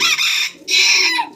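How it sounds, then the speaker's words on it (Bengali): A rooster crows loudly and close by in a long, drawn-out call broken into two strained phrases, with no voices. "আপনার মোরগের তো সুন্দর ডাক"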